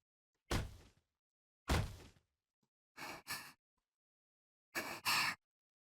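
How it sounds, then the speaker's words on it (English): A girl's breathing in Chaos;Head Noah comes in four bursts: two long airy gasps, then two pairs of quick, sharp breaths, each separated by silence, close and clear. "The breathing of a girl, Orihara Kozue, could faintly be heard resounding through it"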